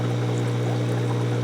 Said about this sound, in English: By adding water to the empty reactor chambers, we can easily get the reactor's circulation pump primed and ready for operation.